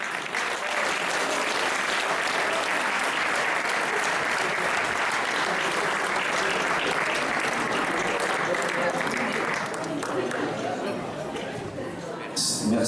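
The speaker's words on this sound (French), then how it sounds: "sous vos applaudissements, Monsieur Philippe Ngo." Sustained applause from a concert audience at a municipal brass band's 175th anniversary show in Saint-Ursanne, Switzerland, dense and even clapping with crowd chatter mixed in, fading slightly near the end.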